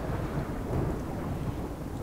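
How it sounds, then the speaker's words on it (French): Thunderstorm in the video game RimWorld, heard as a steady, loud, broadband rumble of thunder and rain that holds evenly for about two seconds with no talking. "J'ai de l'orage."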